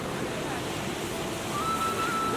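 Floodwater from an overflowing village river rushes past in a steady, dense roar. It holds constant and fairly loud for the whole stretch, with no pauses.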